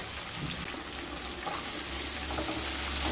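Ground roasted cumin and coriander, chilli, turmeric and ginger paste sizzle steadily in a hot pan for a raw papaya dish, a continuous close frying hiss with soft stirring scrapes, no voices.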